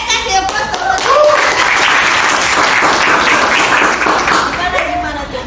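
A classroom of students claps for a classmate, loud and continuous throughout. Children's voices and a teacher's voice rise over the clapping at the start and near the end.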